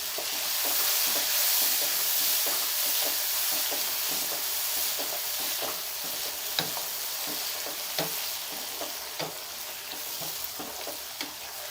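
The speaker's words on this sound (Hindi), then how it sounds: "दो से 3 मिनट तक फ्राई करेंगे दही" Yogurt fries in a pan with spices, black and white pepper and slit green chilies, giving a steady sizzle and hiss while a spoon scrapes and stirs it in sharp, irregular clicks, with no talking.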